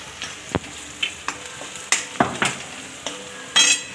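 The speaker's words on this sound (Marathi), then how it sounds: "एक चम्मच तिखट टाकूया आणि थोडा मसाला टाकूया आणि ह्याला एकत्र करून घेऊया" A spoon stirs chili powder, masala and turmeric into bitter gourd and peanut sabzi in a frying pan, giving a faint sizzle broken by irregular scrapes and clinks against the pan, with no talk.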